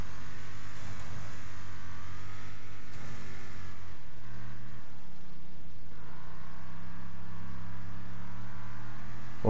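In the video game Wreckfest, a motorhome's engine drones and revs through a race, the pitch climbing and dropping with each gear shift as the motor strains on alone, a fairly quiet, steady sound.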